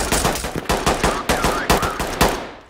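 Rapid bursts of enemy gunfire in the tactical shooter Ready Or Not, sharp repeated shots close by in a steady staccato run with no talk over them.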